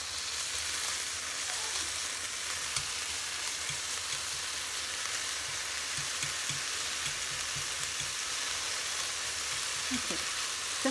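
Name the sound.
bacon frying in a pan until crispy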